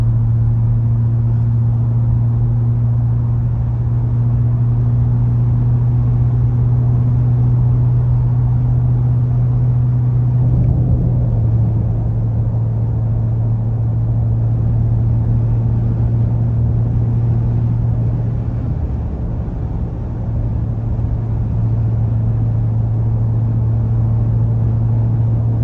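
A 2024 Ford F-150 Raptor R truck cruising on a highway with traffic, heard as a steady, loud low engine drone and road rumble from inside the cab, with no talking.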